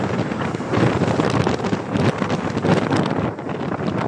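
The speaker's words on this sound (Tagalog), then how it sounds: "Malakas na ang ulan sa part na to at malakas din ang hangin" Strong wind and heavy rain buffet a rider on a motorcycle loop through mountainous Laguna and Infanta, a dense, steady roar of gusts and downpour filling the whole stretch without a break.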